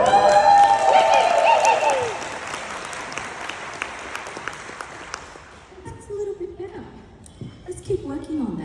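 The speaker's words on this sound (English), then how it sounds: "we're going to clap with our hands and our bums" Audience at a performing arts festival claps with hands and bums, a burst of applause for about five seconds that fades out, followed by quieter scattered sounds and people talking.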